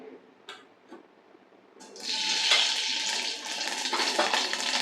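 Mustard seeds drop into very hot oil and burst into a loud, continuous crackling sputter after a few faint taps, close by and without talk.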